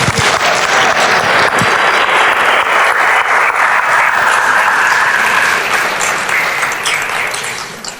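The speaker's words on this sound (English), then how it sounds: "big thanks to you all and applause." A conference audience at a RoboCon 2018 lightning-talks session applauds, loud, dense and sustained clapping that fills the room and gradually fades in the final second.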